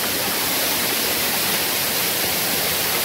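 Navlai waterfall pours in a steady, broad, hissing roar, constant and uniform throughout, heard from some distance with no other sounds.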